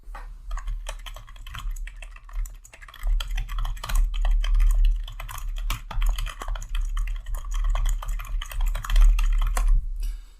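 Continuous typing on a computer keyboard, with dense rapid key clicks and occasional louder strokes filling about ten seconds, close and steady with no talking.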